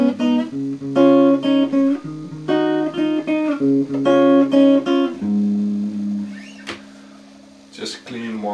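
A Vox VT40+ amplifier plays a clean electric guitar with no effects or modulation, loud strummed chords and picked notes ringing with a warm tone, the last chord sustaining and fading with a few brief noises at the end.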